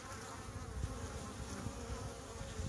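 Honeybees buzzing at a hive entrance on a warm day with pollen coming in, a steady dense hum of many wings close by, continuous and even without any talk.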